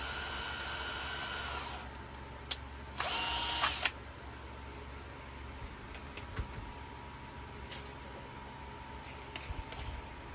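A power drill bores into a truck's rear bumper during an aftermarket bumper install, a steady whine for about two seconds, then a brief louder burst, followed by clicks and light handling noise, fairly close.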